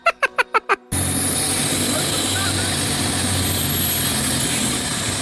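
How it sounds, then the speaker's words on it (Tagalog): A Bangkok river boat's engine suddenly roars up to speed after a few short rhythmic beeps, then holds a loud, steady, close-up droning rumble with water and wind noise for the rest of the stretch. "Nagulat na lang kami nang biglang paandarin ni Kuya ng mabilis tong bangkang sinasakyan namin."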